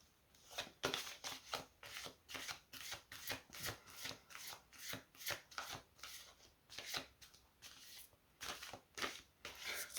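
Cards are shuffled for a reading in a quiet room, in a steady run of soft, rhythmic riffles and flutters heard up close. No one speaks.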